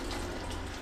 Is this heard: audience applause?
no